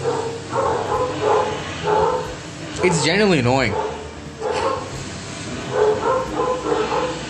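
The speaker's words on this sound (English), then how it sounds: "Those are not my dogs, neighbor's dogs" Neighbourhood dogs bark in repeated bursts at a moderate distance, with a drawn-out howling whine partway through, while someone talks over the noise.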